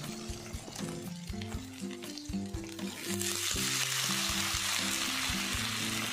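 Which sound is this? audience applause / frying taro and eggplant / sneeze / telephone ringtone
frying taro and eggplant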